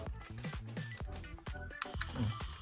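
A Yashica Electro film camera's self-timer, running without a battery, whirs and buzzes in rapid repeated ticks, then a sharp click snaps near the end, close and fairly quiet.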